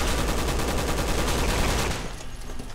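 Rapid automatic gunfire in the video game Resident Evil 6 rattles loud and continuous for about two seconds, then cuts off to a quieter ringing tail.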